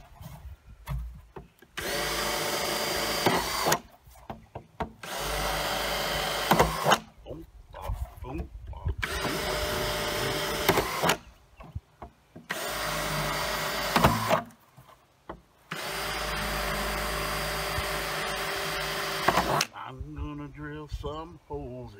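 A power drill bores holes in a garden container in five long, loud bursts of whirring and grinding separated by short pauses, close up, with a voice between bursts.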